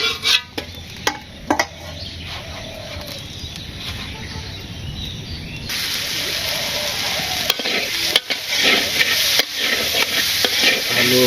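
Potatoes are sautéed and stirred in a pan in a village kitchen, a steady sizzle broken by sharp scraping stirs and clinks, growing louder and more crackly in the second half.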